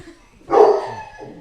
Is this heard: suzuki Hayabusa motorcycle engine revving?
no